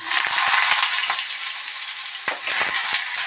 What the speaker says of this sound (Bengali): তেলটা গরম হয়ে গেছে, ওর মধ্যে আমি আলুটা ছেড়ে দেবো।